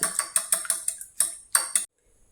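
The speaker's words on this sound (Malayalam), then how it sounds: "നന്നായിട്ട് ബീറ്റ് ചെയ്തെടുക്കാം" Eggs beaten with a pinch of salt in a bowl, a fork or whisk clicking against the side in quick rhythmic ticks, about eight close taps in two bursts and then silence.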